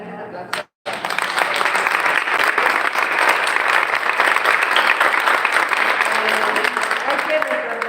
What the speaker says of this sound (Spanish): vamos a brindarle un aplauso